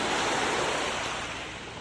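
Continuous broad wash of sea waves by the shore near a house, a steady rushing surf that slowly fades slightly, with no talking.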